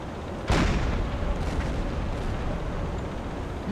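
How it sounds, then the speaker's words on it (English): In the submarine game Silent Hunter 4, a sudden deep boom hits, then a dull rumbling roar lingers, muffled and heavy like blasts under water, with fainter thuds following. "those explosions under the water should be safe from that"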